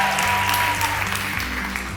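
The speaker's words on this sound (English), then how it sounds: "I think you all need a round of applause one more time just to acknowledge that" A short stretch of audience applause at an awards ceremony celebrating employee volunteerism, steady clapping under sustained low musical tones.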